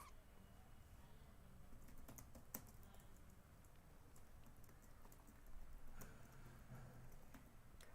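Typing code on a computer keyboard during a Python lesson: faint, steady key clicks and taps patter on at an irregular pace over a low background hum, with no speech.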